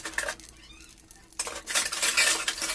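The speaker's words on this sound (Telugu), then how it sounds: "బాండీ పెట్టుకుని ఆయిల్ పోసుకొని అందులో ఆవాలు ఇంకా మెంతులు కరివేపాకు వేసి" Mustard seeds, fenugreek and curry leaves hit hot oil in a pan (bandi), giving a burst of bright crackling sizzle with some stirring and clinks of utensils that grows loud after a quiet start.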